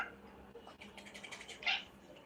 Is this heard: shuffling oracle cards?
no